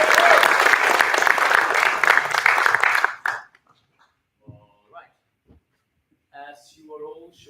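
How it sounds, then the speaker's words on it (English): Audience applause at closing presentations held at a technical museum, a loud wash of clapping for about three seconds that cuts off, followed by near silence and brief bits of a speaker's voice. "Give a warm applause for Gustav."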